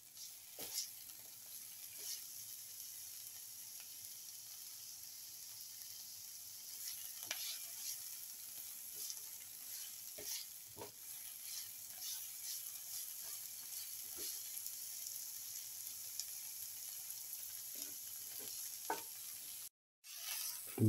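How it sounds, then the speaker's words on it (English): Onion and bitter gourd fry in a pan with a continuous, soft hiss. Scattered utensil scrapes and taps come through as they are stirred, quiet and steady throughout, with no talking. "the onion and the bitter gourd are nicely fried."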